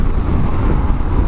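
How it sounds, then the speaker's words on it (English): A Suzuki V-Strom motorcycle engine pulls hard while riding at speed, a loud, dense low roar mixed with heavy wind buffeting across the microphone, steady and close throughout, with no talking. "This is a violent engine"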